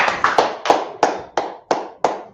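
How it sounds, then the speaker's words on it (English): Congregation clapping in unison during a Sabbath service, about eight sharp, evenly spaced claps with short decays between them, close and fairly loud. "Clap it up."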